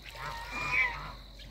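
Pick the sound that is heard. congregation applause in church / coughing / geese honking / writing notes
geese honking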